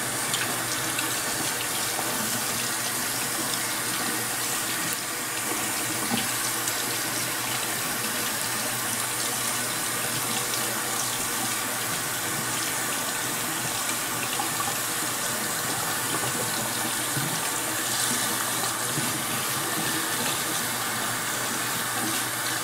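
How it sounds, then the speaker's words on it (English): Tap water runs steadily into a sink to rinse hydrogen peroxide off a turtle's shell during shell rot treatment, a continuous close, full-bodied rushing and splashing with no talking. "Now I'm just gonna wash up the hydrogen peroxide."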